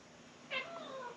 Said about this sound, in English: You're meowing a lot.